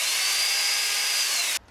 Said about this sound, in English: you get a drill with an 1/8 inch drill bit, 1/8 inch, and very carefully drill a small hole